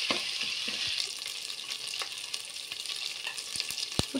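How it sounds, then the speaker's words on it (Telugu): Chicken dropped into hot oil with ginger-garlic paste for a Sunday chicken biryani, sizzling steadily in a broad hiss with a few sharp clicks and spoon knocks near the end, no voices. "ఒక 2 నిమిషాలు ఫ్రై చేసుకొని ఇందులో చికెన్ వేసుకుందాము"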